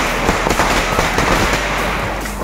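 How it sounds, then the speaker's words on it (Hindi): Firecrackers burst on Diwali night outside a shop, a loud, close run of sharp cracks and pops packed into a dense, continuous crackle for a couple of seconds. "एक विक्की से ये पटाखा नहीं जल रहा"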